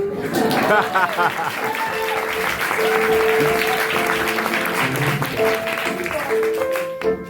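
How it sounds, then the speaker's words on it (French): Audience applause in a French-language spoken-word or poetry setting, a steady wash of clapping that holds for several seconds while tonal music or voices sit over it. "vous pouvez applaudir."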